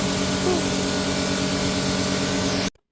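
A steady, loud hiss of water spraying onto a car runs continuously at close range, then cuts off abruptly.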